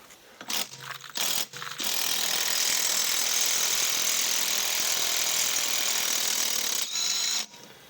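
Socket ratchet turning a bolt on the trailing arm of a BMW E46, a steady close clicking run lasting several seconds after a few short bursts of ratcheting at the start.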